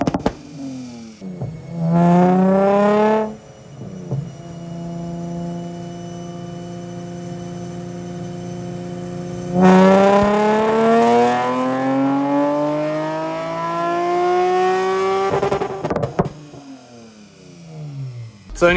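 A Honda Del Sol Si engine fitted with headers revs on a dyno in two loud sweeps, climbing steadily in pitch before dropping back to a lower drone between them, with a sharp cut after each pull.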